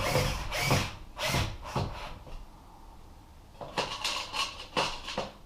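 A power drill drives 5/8 screws into a Kraftmaid bathroom cabinet during installation, giving several short, close whirring bursts in two groups separated by a quiet pause.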